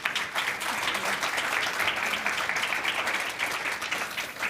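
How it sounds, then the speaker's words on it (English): A conference audience gives speakers at an art market discussion a warm round of applause, a sustained, even wash of many hands clapping from start to finish. "please give our speakers a very warm round of applause"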